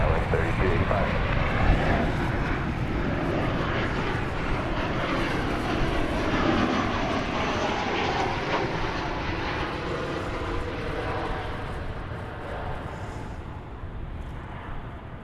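American Airlines Flight 1957 from San Antonio, a jet airliner at Dallas Fort Worth airport, gives a continuous loud engine roar that slowly fades, with a voice talking over it.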